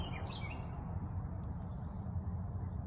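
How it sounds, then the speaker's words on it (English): Crickets chirp in a steady high-pitched drone in a quiet garden, with a few faint bird calls near the start over soft outdoor ambience. "the sound of crickets and birds in the background"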